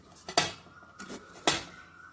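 A knife chops through raw green mango on a board for pickle, giving three sharp, separate knocks of the blade against the board, close by and fairly quiet, with no talk.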